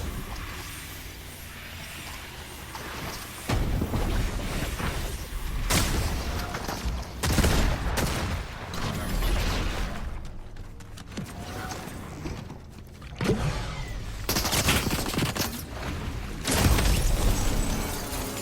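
A pump shotgun fires in the Fortnite video game amid other game sounds, the sharp blasts recurring every few seconds over a busy mix of effects and ambience.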